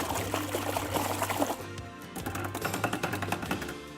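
Wet paintbrushes are shaken to fling off water during a live painting session, producing quick, rhythmic splattering ticks close by over a steady background hum.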